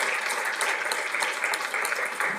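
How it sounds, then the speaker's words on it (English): A short burst of steady audience clapping at a city council meeting after a presentation, many hands together at an even level throughout. "Now we can clap."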